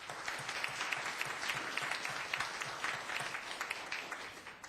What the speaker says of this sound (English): let's applaud Michaela